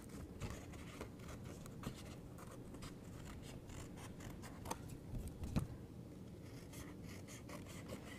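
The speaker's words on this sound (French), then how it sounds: "Moi, j'ai des gros ciseaux," Large scissors cutting paper for a craft, a faint run of rough snipping and scraping close by with a couple of sharper clicks, no talk.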